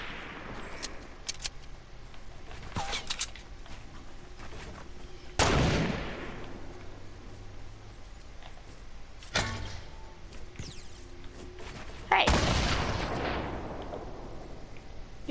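Gunfire in Fortnite: two sharp, loud shots ring out about seven seconds apart, each trailing off in a long decaying echo, with faint lighter pops and clicks scattered between them.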